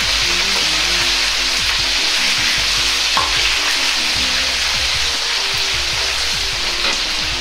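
Eggplant and other summer vegetables deep-frying in hot oil for sweet and sour pork, a loud, steady, dense sizzle and crackle running the whole time with no voices.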